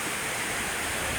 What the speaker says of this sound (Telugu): చూసావా, భలే ఉంది కదా వాటర్ ఫాల్స్.